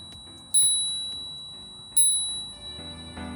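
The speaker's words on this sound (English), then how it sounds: "I really like this bell. It's really loud but not too intrusive." A bicycle bell on an Ariel Rider Kepler e-bike rings twice, bright and loud up close, each ding ringing out and slowly fading.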